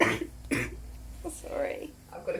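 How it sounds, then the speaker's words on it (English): A man coughs and clears his throat close to the microphone, a couple of short harsh bursts in a quiet room. "I've got a coughing cameraman"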